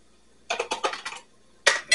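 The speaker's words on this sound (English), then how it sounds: "Get it stirred up in there real well." A spoon scrapes and clinks around a pan of biscuit gravy, close up, in quick rhythmic strokes: a run of five or six knocks, a pause, then two sharper taps.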